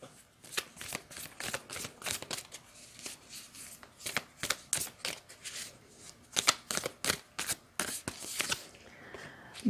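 Lover's Oracle cards are shuffled repeatedly, a close series of crisp riffling bursts in an uneven rhythm, with a voice speaking faintly in between.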